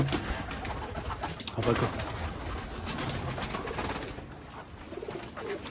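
Pigeons coo softly inside a pigeon tower, low rounded calls repeating over rustling and wing flutters, with people talking nearby.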